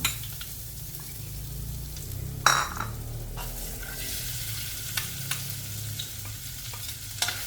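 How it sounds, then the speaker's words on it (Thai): Crushed garlic, pepper and coriander root paste stir-fried in a little oil sizzles steadily, with a utensil scraping and clinking against the pan now and then. "ผัดสามเกลือให้หอมๆค่ะ"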